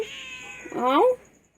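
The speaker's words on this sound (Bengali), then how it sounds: "হ্যাঁ চিংড়ি, কি হয়েছে ম্যাও?" A pet cat gives one clear, close meow with a rising then falling pitch, preceded by a faint bit of quiet background talk.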